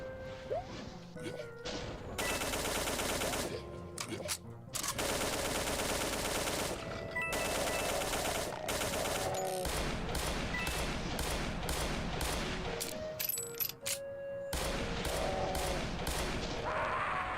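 Rapid automatic gunfire in a video game rattles out in dense, loud bursts, with short pauses between volleys and sharp impact cracks scattered throughout.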